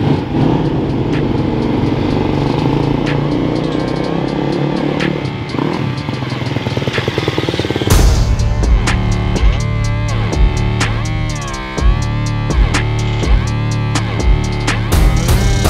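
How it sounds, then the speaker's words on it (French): A 2021 GasGas 250 MCF dirt bike rides a motocross circuit, its engine revving and droning loudly with rising and falling pitch and a sharp jump in intensity partway through, heard close as if from the bike itself. "on a pour but de tester cette moto là, un 250 GasGaz MCF de 2021"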